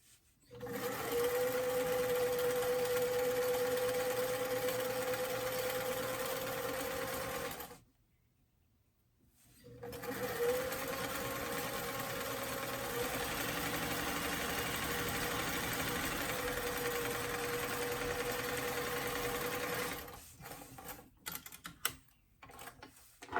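A sewing machine runs a zigzag stitch with a short stitch length along the edge of a lined doll dress, whirring steadily and close. It pauses for about two seconds, then resumes for another long stretch before stopping, followed by light handling clicks.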